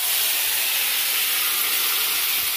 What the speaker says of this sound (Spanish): ya la voy a freír un poquito